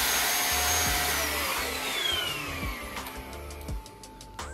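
Samono SW-MPG400 mattress vacuum cleaner running close up, a steady loud whine and rushing suction with pitch sweeps, plus rhythmic thumps from its mite-beating action near the end.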